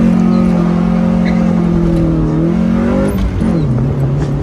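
A repaired car engine drones loud and close from inside the moving car, its pitch climbing steadily as it revs, then dropping sharply at a gear change and settling lower.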